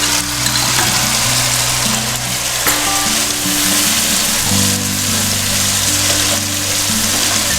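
Tomato paste goes into a hot pan of sizzling ginger and garlic paste for a soya chunk curry, giving a loud, continuous frying hiss close up.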